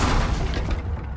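Confringo fire spell blast cast in the Hogwarts Legacy video game, a loud booming explosive burst with a heavy low rumble that decays over about a second, with no talk.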